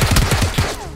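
Rapid automatic fire from a UMP submachine gun in PUBG, a loud, dense string of closely spaced shots filling most of a short burst before tailing off.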